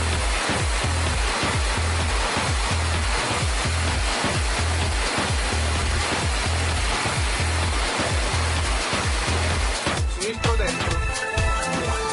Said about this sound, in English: This rig can deliver 60 litres of water per minute